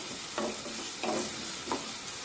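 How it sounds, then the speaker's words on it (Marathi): Onions sauté in a hot pan for a spicy sandge curry, with a steady soft sizzle broken by three distinct scraping stir strokes, close and alone. "कांदा व्यवस्थित शिजला पाहिजे, त्यासाठी एकसारखं या कांद्याला सतत असं परतत राहायचं"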